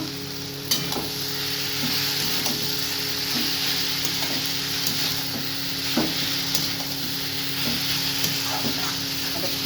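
Cabbage curry fries in a pan with a continuous close sizzle, while a utensil stirs and scrapes it in regular strokes roughly every second.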